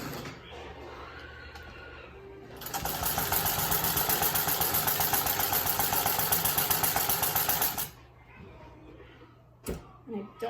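A sewing machine with a basic size 14 needle for woven fabrics, balanced on small blocks without a bed, runs a loud, steady rapid stitching burst of about five seconds after quieter background hum, then stops.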